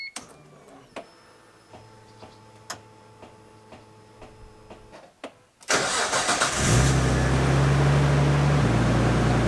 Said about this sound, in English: you should hear the pump kick up, especially if it's a decent upgrade to the standard GTS or GTS-T pump